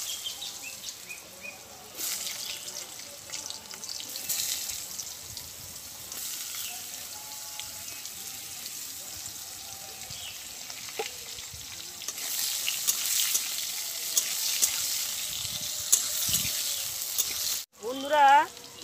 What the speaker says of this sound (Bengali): এবার আমি আলুগুলো ভেরিয়ে দেব।